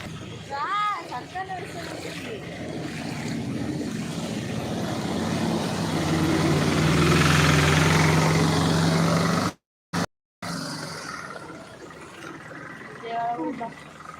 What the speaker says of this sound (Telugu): ఈ బండ్లు వచ్చినప్పుడల్లా ఇంకెక్కువ వస్తున్నాయి ఇంట్లోకి నీళ్ళు